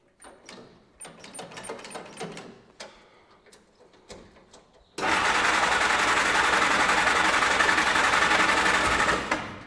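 A Jeep Flatfender cranking over and trying to start: irregular mechanical clatter and ticking first, then a sudden loud, steady broadband roar that holds for several seconds.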